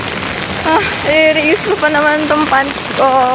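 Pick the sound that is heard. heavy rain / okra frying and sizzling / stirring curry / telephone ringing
heavy rain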